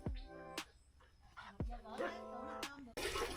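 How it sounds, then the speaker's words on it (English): Dogs in the Vietnamese countryside give a few sharp barks and yips at close range, spaced irregularly over a few seconds with quieter whimpering between them and speech in the background. "There are also very cool dogs here."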